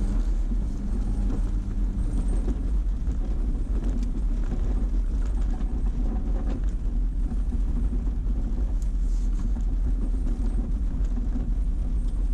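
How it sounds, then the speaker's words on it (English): A Jeep JK 4x4 plows through a deep snow drift with a steady, low engine rumble and continuous churning noise that holds constant for the whole stretch, with no talk. "Hit that drift with a little more speed."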